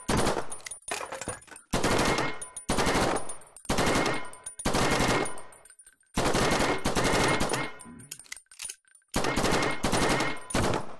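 Bursts of rapid automatic gunfire from the VR shooting game Dynamic Shooting fire in repeated loud volleys, each a second or two long, with short silent gaps between them.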